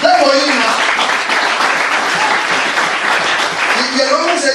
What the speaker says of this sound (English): Clap for him now.